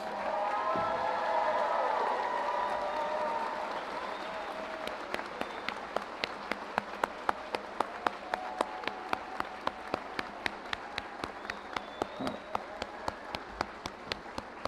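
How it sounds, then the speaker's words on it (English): Crowd applause for the class of 2021 at a Palo Alto College commencement, broad clapping that starts full, thins out, and leaves scattered sharp individual claps echoing in a large space. "Let's give our graduates a round of applause"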